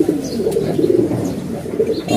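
Close, continuous low cooing from a pigeon, a rolling throaty murmur held for a couple of seconds with slight pulses, heard alone without talk.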